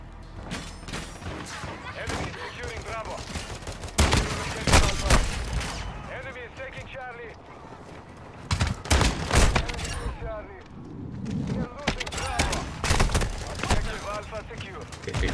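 Gunfire in Call of Duty MW2 on the Shipment map comes as dense bursts of automatic fire and booming shots, loud and close, with a player talking between the volleys.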